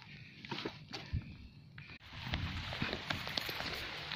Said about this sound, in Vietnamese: Giờ này mưa quá bạn.